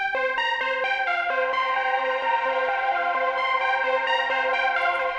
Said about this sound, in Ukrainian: Ідемо далі, це наше інше арпеджо